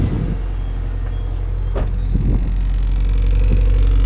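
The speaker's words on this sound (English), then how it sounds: "cold start, because it idles a bit high, it actually sounds okay" A 1998 Honda Civic engine idles a bit high on a cold start, a loud steady low rumble close by, with a few faint clicks and knocks over it.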